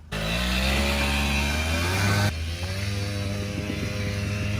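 Suzuki LT80 ATV engine running after carb cleaning and a tune-up, a loud, steady buzzing two-stroke drone close by that shifts to a lower idle partway through.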